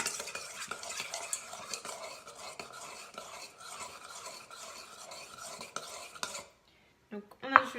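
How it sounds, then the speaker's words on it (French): A spoon stirs seafood with ginger in a pan, making continuous scraping and clinking against the metal over a light sizzle, then a brief quiet and a few sharp clatters of utensils at the end, with no talk. "On remue."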